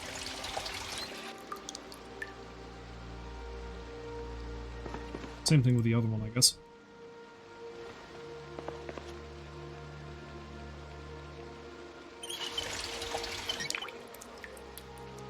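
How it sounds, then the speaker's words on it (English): Water filling containers in Project Zomboid, a brief splashing pour under steady game ambience, followed by a voice talking. "Let's fill that up with some water."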